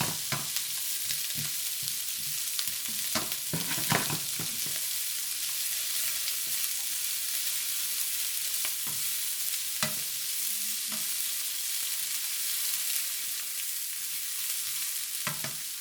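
Onions frying in a pan give a steady bright sizzle, joined by intermittent knocks and scrapes of a stirring utensil early on, with no voices.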